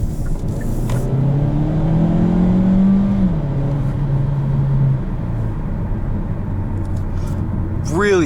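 A 2019 Hyundai Kona heard from inside the cabin hums under acceleration, its engine tone rising steadily and then settling into a steady drone, with road noise and someone talking over it.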